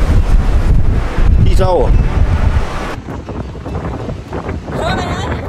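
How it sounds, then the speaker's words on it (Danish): Strong gale-force wind buffets the microphone outdoors by the sea, a loud continuous roar with rumbling gusts throughout, while people talk briefly over it. "Der er jo helt orkan udenfor."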